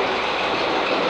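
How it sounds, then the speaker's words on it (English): A train coming into Nottingham station rumbles and clatters steadily along the rails close by, a dense continuous roar of wheels with no voices. "There's a train coming in."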